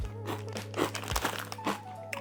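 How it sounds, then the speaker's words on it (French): Crunchy bacon-flavoured crisps bitten and chewed up close, with repeated crisp crackling crunches over a couple of seconds and no talking. "Ils croustillent bien, on sent super bien le bacon."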